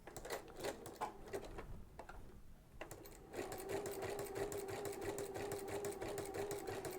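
A sewing machine stitching with a walking presser foot, running in fast, even rhythmic clatter, briefly slowing and pausing before picking up again, steady and close.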